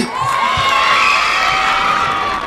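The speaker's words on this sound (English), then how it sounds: "Can we give a round of applause for the teams, please?" Spectators at a football final between Nyambai and Gidda roar and cheer for the teams, a loud, sustained crowd wash with shrill whoops and high tones riding over it.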